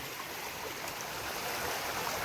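Steady rushing flow of water running along an irrigation channel in a field, broad and continuous, close by with no voices.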